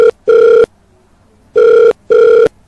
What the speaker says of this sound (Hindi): पांडो जी आपका समय फोन उठते ही शुरू हो जाएगा।